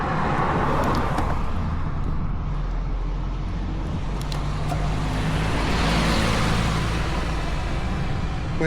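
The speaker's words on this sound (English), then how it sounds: "Truck coming." A large vehicle, likely a truck, rumbles past on a rural road in Chiba, a loud, steady broadband roar of tyres and engine that swells and holds close by for several seconds with no talking.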